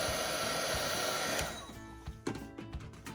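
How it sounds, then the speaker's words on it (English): Embossing heat gun running on its low setting to dry a handmade Valentine's Day flip card: a steady close blowing whoosh for about a second and a half, then it cuts off, leaving faint handling noises. "We're going to set this with a little bit of heat from the embossing gun. I'm using the low setting"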